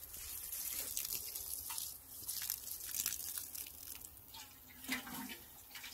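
A watering can pours saponin fertilizer solution onto garden soil in a steady, close splashing trickle with small gritty crunches from undissolved pellets, running continuously for several seconds.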